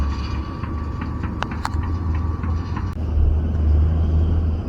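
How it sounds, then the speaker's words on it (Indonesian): Heavy trucks hauling fill soil rumble past on a road near a railway overpass and toll gate, a steady low engine drone with a louder surge as one passes close near the end. "cukup banyak sekali kendaraan truk yang lalu lalang melasir tanah timbunan menuju ke arah barat sana"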